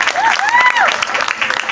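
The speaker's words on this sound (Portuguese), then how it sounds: "mais uma vez a salva de palmas pra ele" An audience at a Calebe Day church event in Brazil gives a round of applause, brief clapping with a voice speaking and a whistle-like tone over it.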